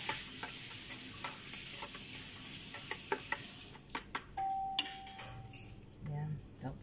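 Ground meat fries and gets stirred in a pan while a lasagna filling is made, with a hissing sizzle that fades midway, spoon scrapes and light clinks, and someone speaking quietly over it.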